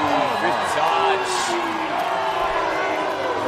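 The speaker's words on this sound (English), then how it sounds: "Crowd's not happy." An unhappy crowd at a rugby match between the Bulls and the Sharks rumbles and jeers in a steady mass of sound, with a commentator talking over it.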